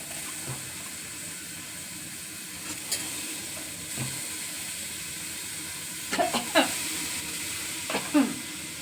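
Quiet, steady sizzle of oil in a pan as spices are tempered, with a few sharp clinks and stirring scrapes near the end; no talking.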